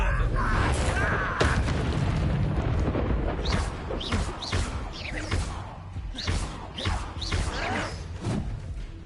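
Incendio fire spell cast in Hogwarts Legacy, a whooshing burst of flame with booming impacts and swishing magic effects in a busy fight, a voice speaking over it.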